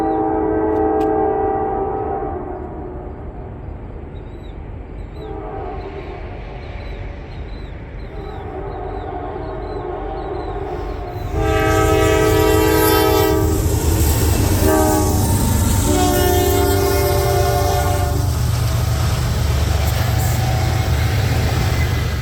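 A Norfolk Southern heritage locomotive's chord horn blasts repeatedly as the train draws near at night, then the loud rumble and clatter of the passing train joins the horn.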